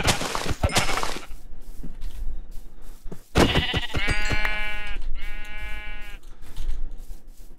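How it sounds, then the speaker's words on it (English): Sheep bleating in the Minecraft video game, several loud, drawn-out bleats repeating one after another over background game sounds and clatter, with no talking. "Is that a fucking sheep? It is."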